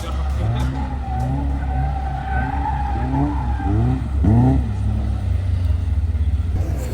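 A car drifts through a figure-of-8 course, engine droning with repeated rising and falling revs and sustained tyre squeal, loud and close, continuing steadily with bursts of squeal around the turns.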